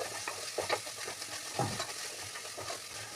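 Vegetables being stirred with turmeric in a frying pan, a soft background sizzle punctuated by quick scraping strokes of a spoon against the pan, close and fairly quiet, with no talking.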